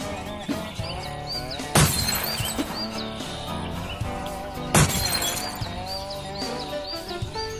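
Shotgun blasts shattering glass bottles in the Duck Dynasty video game on PS4, two loud bursts of breaking glass set against steady game music and ambient tones.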